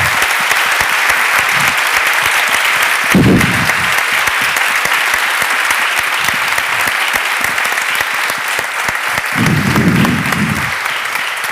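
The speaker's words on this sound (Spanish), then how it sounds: "Un fuerte aplauso para él." Audience at a book talk in Valladolid giving a strong round of applause, dense sustained clapping from a full room that stays loud throughout with a few brief louder bursts.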